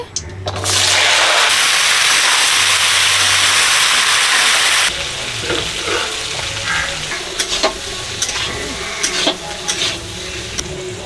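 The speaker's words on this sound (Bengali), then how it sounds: "উচ্ছে আলু ভেজে নেবো সাদা তেল দিয়ে দিচ্ছি তেল গরম হয়ে গেছে শুকনো লঙ্কা দিয়ে দিচ্ছি উচ্চা আলু দিয়ে দিচ্ছি" Bitter gourd and potato hit hot white oil with dry red chilli, setting off a loud, steady burst of sizzling that eases after about five seconds into softer frying crackle and stirring clatter.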